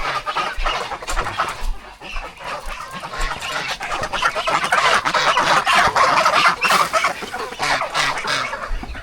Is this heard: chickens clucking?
yes